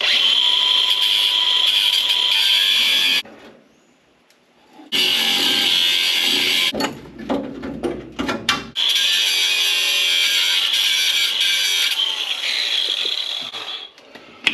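A loud power tool whines steadily while cutting metal on a 1978 K5 Blazer rear end, stops briefly, then restarts with rough grinding bursts before running continuously again.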